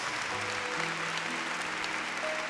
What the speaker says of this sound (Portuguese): Quem pode dar um aplauso ao Senhor Jesus Cristo